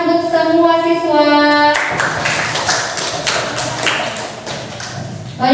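Students in a classroom clap their hands, a burst of scattered, uneven claps and taps that follows a sustained tonal sound and fades toward the end.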